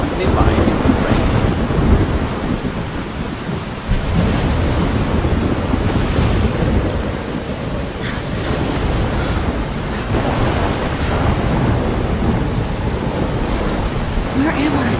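Steady heavy rain and rolling thunder fill a stormy scene in the video game Life Is Strange, with deep rumbles swelling every few seconds over the constant downpour.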